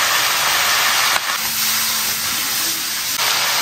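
Braised pork head meat being stir-fried in a wok with green peppers and garlic sprouts, a steady loud hiss of steam and sizzling oil running throughout with a faint tonal hum in the middle.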